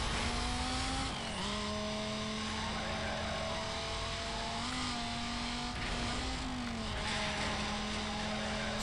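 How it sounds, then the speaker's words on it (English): A Lamborghini V10 exhaust note from the 2005 video game Need for Speed Most Wanted holds a steady, droning engine tone for the whole stretch. Its pitch dips and rises slightly at a few gear or throttle changes, with no talking. "Can't mistake that Lamborghini V10 sort of exhaust note."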